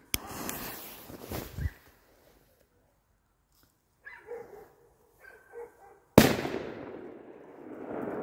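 A 2020 FS3 firecracker bursts in a single loud, sharp bang at close range, trailing into a long rumbling decay, with quieter scattered noises before it.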